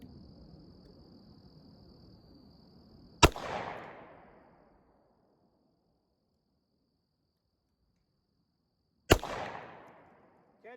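Two sharp revolver shots from a Taurus 605 firing .357 rounds in slow double action at a 7-yard range, spaced about six seconds apart, each a loud crack with a ringing decay, over faint insect chirping outdoors.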